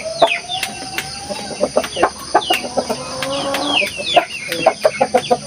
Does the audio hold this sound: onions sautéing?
no